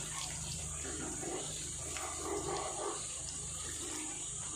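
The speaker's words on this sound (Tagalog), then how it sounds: "Ngayon, lalagyan ko ng isang basong tubig." A glass of water is poured into a cooking pot, giving a soft, continuous splashing flow for a few seconds, close by and fairly quiet.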